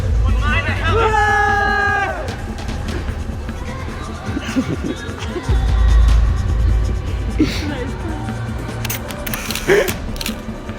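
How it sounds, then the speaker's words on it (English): A crowd cheers and roars at a running race in London. The loud, dense hubbub runs throughout, with voices shouting over it and a few sharp bursts near the end. "Oh, the crowd goes."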